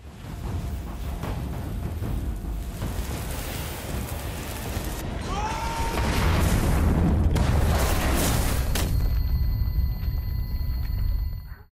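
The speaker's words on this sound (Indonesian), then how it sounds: "dia pun langsung meledakkan pabrik tersebut" A factory blown up in a film scene: a sustained, loud rumbling blast with deep low roar and crackling debris, building over several seconds and holding steady before cutting off abruptly, with no voices.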